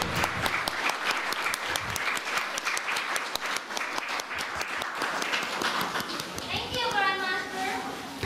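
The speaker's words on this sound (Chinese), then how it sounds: "让我们再次以热烈的掌声感谢师尊" Warm, sustained applause from a large crowd at a Buddhist temple gathering in Seattle, thanking the master after a teaching, with faint children's voices and a brief whistle-like tone near the end.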